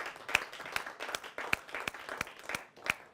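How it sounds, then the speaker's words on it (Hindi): An audience at a Hindi comic poetry gathering claps in a strong, regular rhythm, with sharp, evenly spaced beats over a softer bed of scattered clapping, close and lively. "जोरदार तालियों के साथ स्वागत करें"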